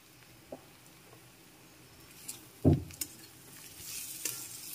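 Prawns going into a pan of snake gourd and potato, stirred with a few scraping knocks and a soft, low sizzle, one louder thump mid-way, no voices.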